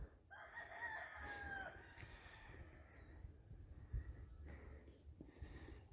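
A rooster crows once from a distance, a faint drawn-out call over quiet outdoor background noise on a hiking trail near Huitzilac, Morelos, Mexico, where many roosters are kept.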